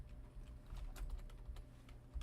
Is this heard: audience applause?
no